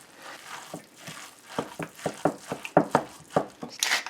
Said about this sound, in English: the important thing is now to mix it really well